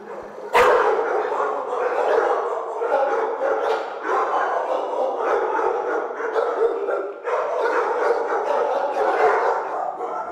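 A blue pit bull barks repeatedly and aggressively at close range in Detroit. The deep barks come in rapid, continuous bursts with a few yips mixed in, loud throughout.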